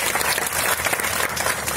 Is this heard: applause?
yes